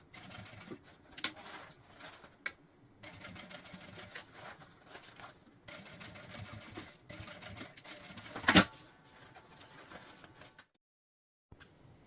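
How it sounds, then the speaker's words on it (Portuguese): A sewing machine stitches the seam of a fabric makeup bag in bursts of rapid rattling, pausing briefly between runs, with one sharp louder clack near the end before falling silent. "Agora, eu vou fazer a costura desse lado. Vou iniciar com um arremate e vou vir até o centro."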